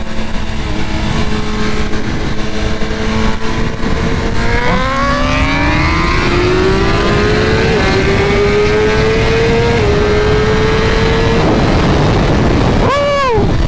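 A 2023 BMW S1000RR with BT Moto flash ECU tuning races at full throttle, its loud, high-pitched engine wail climbing steadily through stepped gear changes, then a sharp final rev sweep near the end.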